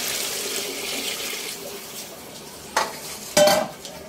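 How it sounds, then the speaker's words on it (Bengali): Water is poured into a cooking pot during Bengali home cooking, a bright rushing splash over a faint stirring and sizzling bed, with two short louder bursts near the end. "আমি এখন পানি ঢেলে দিচ্ছি।"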